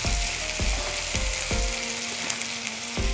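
Chopped onion and tomato fry hard over a high gas flame in a Maharashtrian pithla base, a steady loud sizzle broken by a few sharp scraping strokes of a spoon against the pan.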